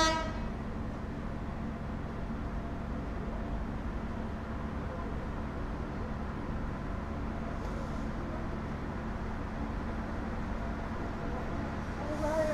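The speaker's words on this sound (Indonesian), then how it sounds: "Itu akan ada kereta yang masuk teman-teman." A green local commuter train pulls into Lamongan station, sounding its horn over a steady, loud rumble of the train and station, with a brief horn tone near the end.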